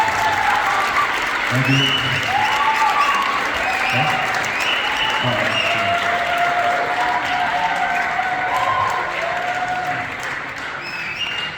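Audience applause at a fundraiser auction for Gaza in Montreal, steady dense clapping throughout, with a voice speaking over it and crowd murmur.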